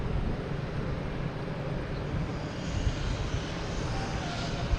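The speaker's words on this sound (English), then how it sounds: "This is coming in is Aer Lingus." An Aer Lingus airliner arrives at Boston's Logan Airport over Castle Island, its jet engines producing a steady, broad, distant roar that holds evenly throughout with no talk.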